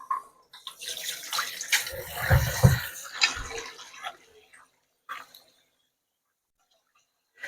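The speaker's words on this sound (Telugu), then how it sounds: "చికెన్ పీసెస్ వైట్గా వచ్చేవాళ్ళు అంతదాకా మనము బాగా వాష్ చేయాలి" Raw chicken pieces are rinsed by hand in water in a kitchen, giving close splashing and sloshing that swells, then fades to quiet drips and near silence.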